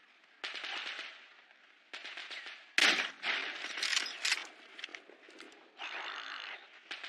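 Gunfire in the Metro Exodus shooter game comes as several quick bursts of sharp reports with short gaps between them, and one louder crack stands out midway, all moderately close with no talk over it.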